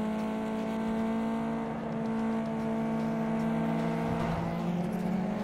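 A race car engine in GT Racing 2 holds a steady, loud, whining drone that climbs slowly in pitch as it accelerates, with no voices over it.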